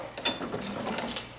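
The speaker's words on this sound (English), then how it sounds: "I'm going to start sewing on this piece of paper" A sewing machine stitches knit fabric laid over paper, giving a quick whirring, clattering run of needle strokes at close range, with no talking.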